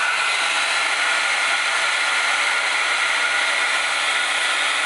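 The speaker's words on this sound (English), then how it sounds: "I'm gonna go in with my blow dryer now on cool." A handheld hair blow dryer running on its cool setting, a loud, steady, close airy whoosh that holds constant with no pauses.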